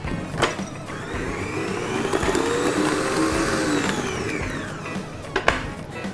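An electric mixer whirs steadily as it beats buttercream flavoured with orange zest and juice. The motor hum stays close and continuous for several seconds, with a couple of brief knocks near the start and end.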